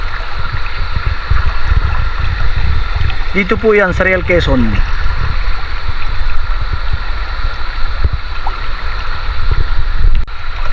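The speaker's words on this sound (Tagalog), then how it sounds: "Marinig mo yung kaluskos ng ilog" A rushing river, the Lubayat in Real, Quezon, gives a loud continuous roar of water throughout, with someone speaking briefly over it partway through.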